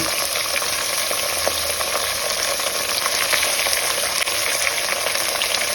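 Fresh mutton pieces frying in a hot pan, a loud steady sizzle with continuous crackling and hissing, close up and uninterrupted, no talking.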